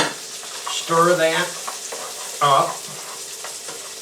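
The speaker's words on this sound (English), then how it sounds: "I'm going to add back in the onions and celery that I took out earlier. Stir that" Cooked turkey with onions and celery stirred in a pan for turkey pasta: scraping, sizzling spoon strokes under a steady background, with two short bursts of speech.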